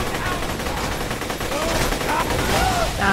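Weapon fire in Borderlands 2, a dense, loud rattle of shots running continuously under game effects, with a voice speaking briefly near the end.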